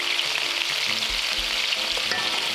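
Steak sauce sizzles steadily in a pan as black pepper and paprika are stirred in, a continuous close frying hiss with soft scraping from the stirring and no talking.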